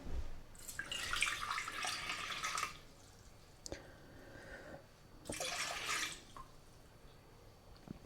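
Warm water poured into a bowl for dough, in two separate bursts of splashing stream with a quiet pause between them, close by and moderately soft.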